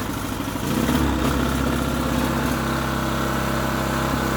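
A small petrol generator engine runs steadily at close range, its buzzing note rising and swelling as it surges, with no talk over it.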